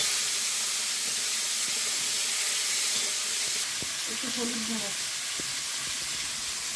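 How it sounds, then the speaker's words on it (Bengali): Nigella seeds, garlic, green chillies and turmeric sizzle loudly in hot oil, a steady close hiss that carries through, with a brief soft voice briefly heard beneath it. "শাকের তরকারিতে চাপাবো একটু কালো জিরে তেলে রসুন কিছু কাঁচা লঙ্কা হলুদ"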